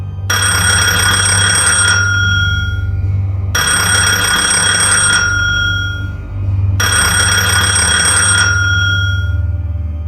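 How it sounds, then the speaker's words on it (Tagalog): A telephone bell rings loudly in three long bursts, each about two seconds with short pauses between, over a steady low hum. "Bigla na namang tumunog ang telepono. Mas malakas, mas mabilis."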